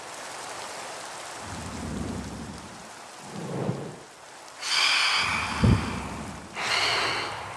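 Rain and thunder at night in the video game Minecraft: steady rainfall broken by several deep thunder rumbles and a sharp crack, loud and alone without talk.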